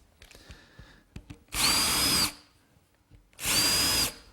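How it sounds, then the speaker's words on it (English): A power drill boring a pilot hole at a slight angle into a wooden dining table top, fixing it to a pedestal base column, in two loud whirring bursts of under a second each with light handling noises between. "Just drilling a pilot hole at a slight angle."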